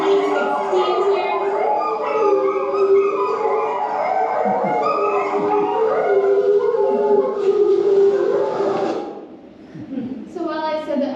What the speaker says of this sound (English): those guys were actually howling at a siren